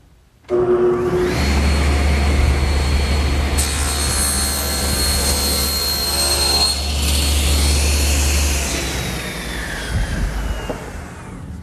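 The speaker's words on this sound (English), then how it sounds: "take the joiner and make one pass so that I have a perfectly straight and square edge" A jointer shaves a straight, square edge on a board for a bathroom vanity cabinet in a woodshop, starting abruptly with a loud, steady machine roar that holds for about eleven seconds before easing slightly.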